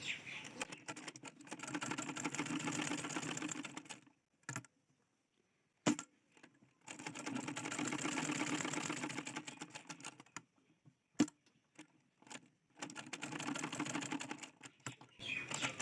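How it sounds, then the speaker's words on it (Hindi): Sewing machine stitching blouse cups in three runs, each a fast rattling burr with quiet pauses and clicks between them, fairly close and heard alone. "इस तरह से मोड़ेंगे और बराबर में यहाँ पर सिलाई लगाऊंगी"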